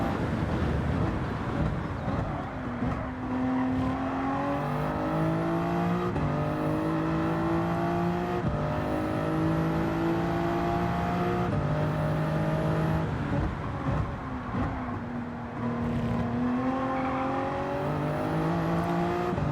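Race cars lapping Bathurst in Gran Turismo 7 during qualifying, a continuous loud engine drone with repeated rising revs and gear shifts, whining up and dropping in cycles, no talk over it.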